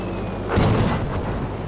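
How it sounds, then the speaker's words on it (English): A heavy blast from a bombing run in Battlefield V, one deep booming explosion rolling out over continuous battle noise, followed by a fainter second thud. "I'm gonna do a quick bomb run."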